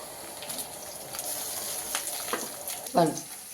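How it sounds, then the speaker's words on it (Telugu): Chopped onions and green chillies sizzling in a pan for chicken biryani, a low continuous frying hiss with occasional stirring sounds and a brief louder clatter near the end, no one talking. "కట్ చేసి పెట్టుకున్న ఆనియన్స్ ఇవి బాగా బ్రౌన్ కలర్ వచ్చిన తర్వాత పచ్చిమిర్చి వేసుకోవాలి"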